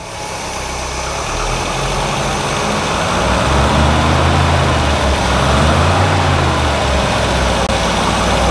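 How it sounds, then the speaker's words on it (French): A workshop engine runs steadily at light throttle for over eight seconds, a loud, even mechanical hum with a slight swell in the middle and no voices. "alors là on va aller en filet de gaz"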